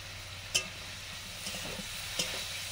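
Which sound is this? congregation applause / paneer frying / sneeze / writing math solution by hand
paneer frying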